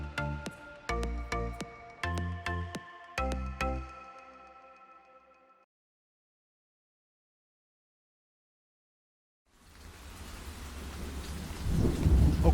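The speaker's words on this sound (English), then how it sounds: "we get the mother of all storms in my region right now" Loud thunder claps boom repeatedly in rhythmic bursts, then fade to silence before heavy rain returns, swelling to a steady roar of rain on surfaces.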